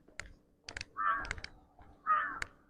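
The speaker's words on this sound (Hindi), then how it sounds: "कौवे की आवाज आ रही है" Two harsh crow caws ring out outdoors along a rural walking route by the Narmada river in India, with sharp clicking or tapping sounds scattered between the calls.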